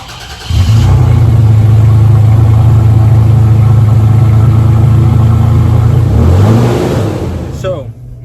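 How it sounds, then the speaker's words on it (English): The engine of a 2021 Toyota Tacoma TRD Sport cranks and fires on a cold start, settling into a loud, steady idle drone for several seconds before easing down near the end, with no talking. "the first cold start of the day."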